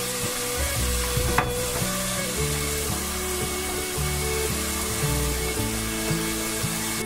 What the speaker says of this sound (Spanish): En lo que se dore el tocino